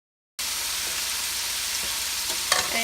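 Chinese broccoli stems and flat rice noodles sizzle steadily in a hot pan after a sudden start, with a few scraping stir strokes near the end, close and alone with no voices.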